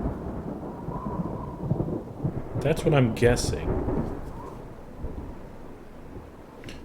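Rolling thunder after a lightning strike in a video game, a rumbling, crackling burst in the middle of the clip over a steady rain-like hiss, with someone briefly speaking under it.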